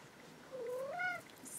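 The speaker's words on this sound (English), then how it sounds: "We have another cat come to visit." A house cat named Bentley gives a single rising-then-falling meow, close and clear over a quiet room with no talking.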